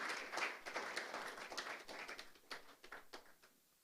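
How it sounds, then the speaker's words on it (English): Applause at a press conference for the Nigeria Prize for Science 2025, as an honoured guest goes to the high table: a steady patter of clapping from a modest crowd, close and lively, tapering toward the end. "That is, please, a round of applause"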